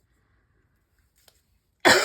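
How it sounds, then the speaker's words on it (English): A single sharp cough bursts out close at the very end after near silence, loud and raspy with a throat-clearing edge. "I'm still coughing."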